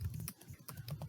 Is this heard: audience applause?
no